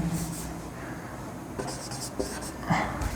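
Chalk or marker scratching out a solution on a classroom board for a Class 10 electric current physics lesson, a steady run of short strokes with quiet voice sounds in the background.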